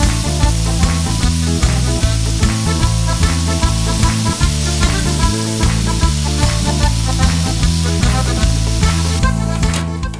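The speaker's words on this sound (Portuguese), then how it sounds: "Então aí eu vou fritando aos poucos" Loud, continuous sizzling from shrimp searing in a hot frying pan, with a steady crackle of popping oil throughout and no talking.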